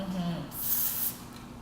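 A short burst of hairspray hisses for about half a second, close up, sprayed onto a section of hair, with a faint voice fading out just before it.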